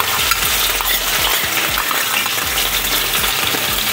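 Mustard seeds, cumin and crushed green chili, garlic and coriander crackle and pop in hot oil, a dense continuous sizzle with sharp seed pops throughout, close and loud with no talking.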